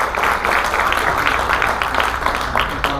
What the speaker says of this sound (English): Let's have a round of applause for Nicole.